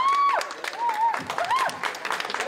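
Clapping from a crew and onlookers at a K-pop group's music video shoot, brief scattered claps mixed with excited vocal exclamations and whistle-like tones rising over them.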